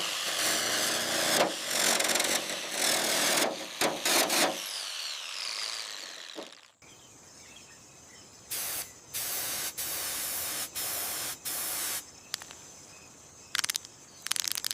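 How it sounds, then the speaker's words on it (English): High-pressure rinse spraying the bodywork of an abandoned 40-year-old 100-foot Anaconda Elite limousine during restoration, a loud hissing jet at first, then quieter intermittent bursts of spray starting and stopping. "Starting the high pressure rinse on section 7."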